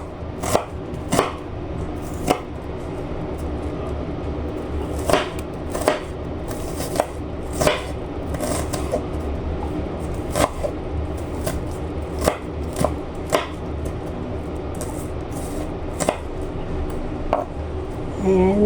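A knife chops garlic finely on a cutting board, sharp taps in irregular clusters, close and clear over faint room noise, with no talking.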